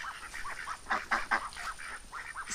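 Geese honking repeatedly in short nasal bursts on a rural smallholding, fairly close, with several calls overlapping in quick succession.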